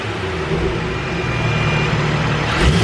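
A tuned BMW B58 engine fitted with a BMS intake runs in a garage, humming steadily and then swelling slightly as it revs near the end.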